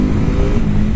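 A BMW F450GS motorcycle accelerates with a loud, steady engine drone heard up close and alone.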